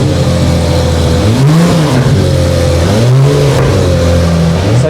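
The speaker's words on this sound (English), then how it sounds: "Let's go and see where the guys are preheating the car." A Porsche 992 GT3 race car, 460 horsepower with a six-speed sequential gearbox, sits in the pit area preheating before an endurance race at Spa, its engine idling loudly and close, with two rising-and-falling blips of revs.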